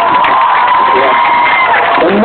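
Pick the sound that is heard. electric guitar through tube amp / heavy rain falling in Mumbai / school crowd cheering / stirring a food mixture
school crowd cheering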